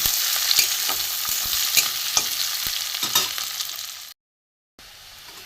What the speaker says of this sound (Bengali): এতে আমি পেঁয়াজ কুচি দিয়ে দেবো বেশ কিছুটা পেঁয়াজ কুচি দিয়ে দিলাম এবার একটু ভালো করে ভাজবো